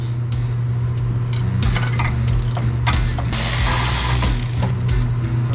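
Close, loud ratchet clicking steadily while breaking loose half shaft bolts on a 1973 Corvette, with metallic clanks over a constant low hum.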